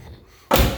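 A car door on a restored car closes with one solid, close slam that follows a quiet stretch of low room hum.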